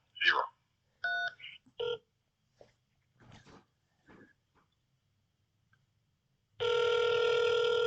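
Telephone keypad dialing tones on a call to an FBI field office's automated phone menu, a few short tone bursts among a recorded voice prompt, then a long steady electronic tone at the end.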